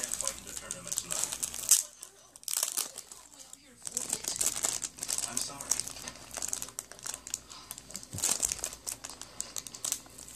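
Crinkly plastic packaging of a Gravity Perseus figure being wrestled open, with steady crackling and rustling close by, a brief lull near the start, and a person speaking intermittently over the handling.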